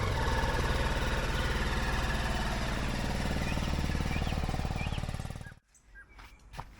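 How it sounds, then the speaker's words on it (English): A 2022 BMW G310 GS motorcycle engine idling with a steady, rapid mechanical chug close up, then cutting off abruptly near the end, leaving quieter background sounds. "allow the engine to idle for 10 minutes"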